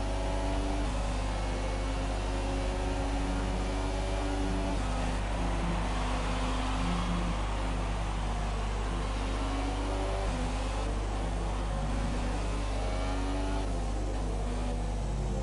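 A McLaren Honda Formula 1 car in the F1 2017 racing game, racing at the United States Grand Prix with a worn engine and damage, drones steadily and loudly with sustained engine whine and tonal harmonics throughout, no voices.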